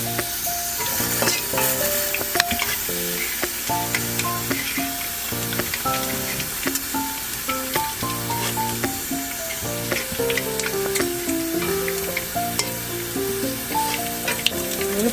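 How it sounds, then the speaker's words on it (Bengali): Dried chillies, bay leaves and cumin sizzling in hot oil in a kadai: a loud, continuous crackling sizzle close by, with no one speaking. "এবার কড়াতে তেল, শুকনো লঙ্কা, তেজপাতা আর জিরে পরিমাণ মতো তেলে দিয়ে দিচ্ছি।"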